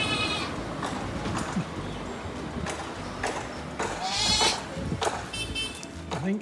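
Goats living under corrugated shelters on Mayotte bleat several times, close and fairly clear, over a background of outdoor ambience.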